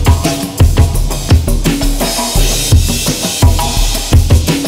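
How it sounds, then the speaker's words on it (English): A loud full drum mix of combined samples, including an electric 606 drum machine, pounds out a steady groove of punchy kicks and hissy, bright cymbals and hats. "the drums sound like this, including the electric 606"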